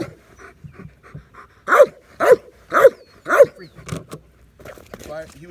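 A dog barking hard during bark training, four loud forceful barks in steady rhythm with panting and softer huffs between, close up, with someone speaking briefly.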